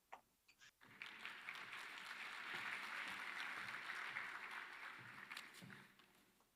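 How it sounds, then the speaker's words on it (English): Audience applause at an education sector lekgotla session, starting with a few scattered claps, then swelling into steady sustained clapping before tapering off, heard from a distance and fairly faint. "can we give him another round of applause, please?"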